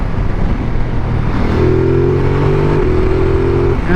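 A 2018 Ducati Multistrada 1260 S accelerates hard in a loud, close engine roar, with its quick shifter clicking through an upshift that drops and steps the pitch partway through.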